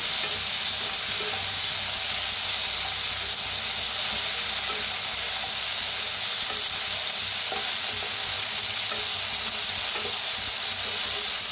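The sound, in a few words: roasting spiced brinjal in a pan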